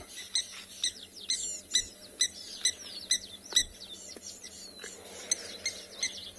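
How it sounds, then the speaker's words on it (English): Sharp, repeated bird alarm calls ring out at sunset on a safari, about a dozen quick chirps and tweets spaced irregularly over a faint, quiet background. "We can just take a moment of a last silence over here, just to listen to these all alarm call"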